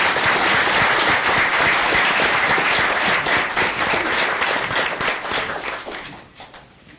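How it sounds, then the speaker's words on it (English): An audience at a city council meeting applauds with steady, dense clapping from a roomful of people that holds strong for several seconds and then tapers off toward the end. "Let's give them a big round of applause."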